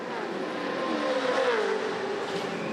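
Supercars race cars come into the pits at a motor race, a loud blended engine roar with a rising and falling whine as the cars pass, heard steadily throughout without pause.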